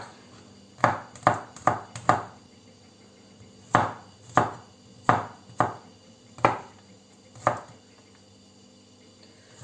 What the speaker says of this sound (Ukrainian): І буду далі нарізати часник